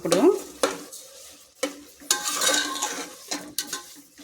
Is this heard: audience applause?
no